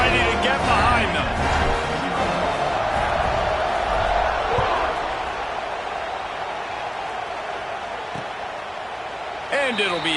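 A stadium crowd roars steadily as the kickoff of a Virginia Tech vs Clemson college football game approaches, loud and sustained throughout and easing slightly toward the end, with a commentator talking over it.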